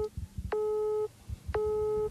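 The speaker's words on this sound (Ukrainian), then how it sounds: "у вихідний день його телефон постійно зайнятий" A telephone busy signal, two identical steady electronic tones each lasting about half a second with a pause between them, loud and clear over low background rumble.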